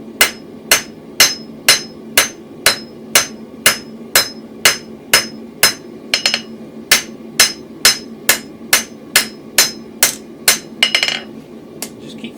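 Hand hammer strikes on hot steel as a toasting fork is forged, a steady run of about two dozen sharp ringing blows in even rhythm, close and loud, with no talk.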